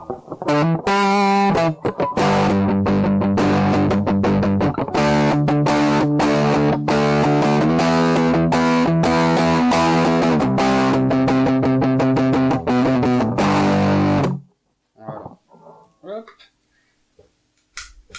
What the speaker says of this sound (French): Juste après la distorsion, donc c'est la même chose avec beaucoup plus de gain.